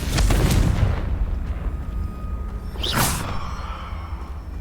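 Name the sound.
Confringo fire blasting spell explosion, video game Hogwarts Legacy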